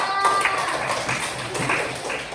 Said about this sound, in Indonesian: sudah boleh tepuk tangan buat kelompok 2